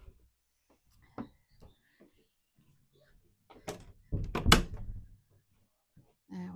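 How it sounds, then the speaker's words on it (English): A creaky bathroom door is pushed shut at home, giving a short burst of creaking and a knock in the middle of the clip. Quiet surroundings and some low handling noises come before it. "I'm just going to have to go and shut our bathroom door"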